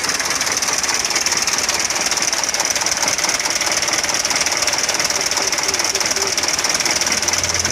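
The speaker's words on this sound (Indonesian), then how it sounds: "Ini keluarnya mesin pincang, guys." Mitsubishi Fuso Canter HD 125 PS diesel truck engine running rough and uneven, a loud steady clatter with hiss, close up and continuous with no pause.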